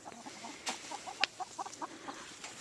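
Backyard chickens clucking in short, scattered bursts at moderate distance, with one sharper squawk standing out among the soft intermittent calls.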